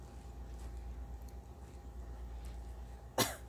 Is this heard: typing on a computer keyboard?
no